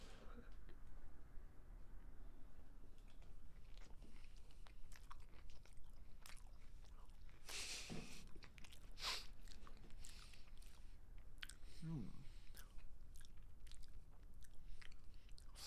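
Mouth noises of someone biting and chewing a peanut butter and pickle sandwich, soft crunchy bites and wet mastication close to the microphone, with a couple of louder bites standing out over a steady low background.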